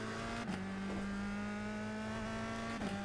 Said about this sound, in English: This car is a lot louder as well.